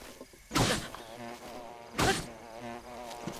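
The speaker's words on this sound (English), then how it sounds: "hopefully those bees just leave me alone" Bees buzz in Zelda: Breath of the Wild, two loud whooshing swells of droning buzz passing close by over a steady insect hum.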